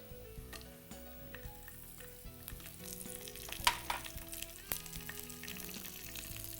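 Slit green chillies frying in hot oil with chana dal and dried red chillies, a steady close sizzle with occasional sharper crackles and stirring, no voices.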